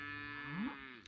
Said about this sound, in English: you're enjoying all this incredible cow footage